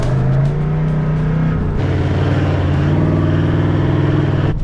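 A Toyota Troopy pulls out of very soft sand on a beach, its engine droning loud and steady at high strain, the pitch dipping as the load shifts partway through.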